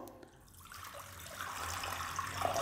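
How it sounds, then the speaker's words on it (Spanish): Tap water pouring into a container for a homemade ritual bath, a soft splashing trickle that starts faintly and grows steadily louder and fuller as the flow continues, with no talking. "Vamos a agregar primero agua natural. Agua de grifo, agua purificada, como tú gustes"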